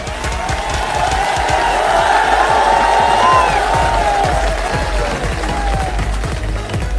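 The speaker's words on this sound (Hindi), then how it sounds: "एक बार जोरदार तालियां हमारे सभी युवा साथियों के लिए।" A large crowd at a political rally cheers and shouts loudly, a dense continuous roar with whoops rising and falling over about seven seconds; clapping is not clearly separable from the cheering.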